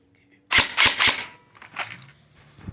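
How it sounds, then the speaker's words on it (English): A cheap airsoft spring pistol fires three BBs in quick succession, three loud, close, sharp cracks about a quarter second apart, followed by fainter clicks and rattles of handling. "I'm shooting cheap Springers, so you don't have to."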